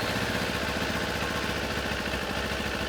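A 2024 Kawasaki Ninja 500 motorcycle idles with a steady, even low burble that holds at a constant moderate level throughout, with no talk.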